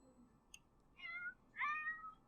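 Cat in The Sims 4 meowing twice in quick succession, the second call louder and longer, preceded by a tiny chirp, alone against a quiet background.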